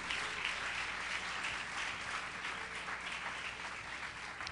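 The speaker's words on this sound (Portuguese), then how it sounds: "Dê um aplauso ao Senhor." A church congregation applauds in a steady, even patter of many hands clapping together, moderately loud and sustained with no talk over it.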